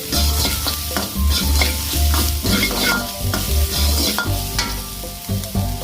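Finely chopped beans sautéing for vegetable fried rice, a close, steady sizzle broken by rhythmic scraping and tossing strokes of a spatula in the pan, no voices.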